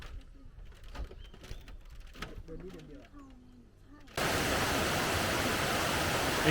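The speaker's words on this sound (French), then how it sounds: "Une cascade." A waterfall in northern Thailand roars as a loud, constant broadband rush that cuts in suddenly after a quieter stretch of rustling and some vocal sounds.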